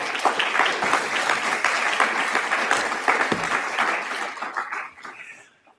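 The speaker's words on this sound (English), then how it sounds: "please keep clapping" Sustained audience applause fills an auditorium at a summit session, dense and steady before fading out near the end.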